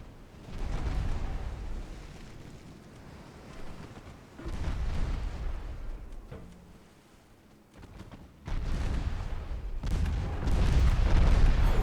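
Naval cannon fire in a Great Game campaign as Portugal, heard as heavy rumbling booms and broadsides that swell and fade in several waves, with a deep low-end roar and no talking over it.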